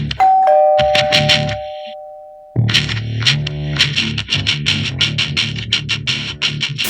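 A podcast intro opens with a loud, effect-processed doorbell ding-dong that rings and fades over a couple of seconds, followed by a dense burst of distorted electronic music.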